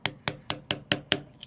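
Seven sharp, evenly spaced metallic strikes from an old hammer, about one every fifth of a second, each ringing briefly before the next, loud and close, with no talking.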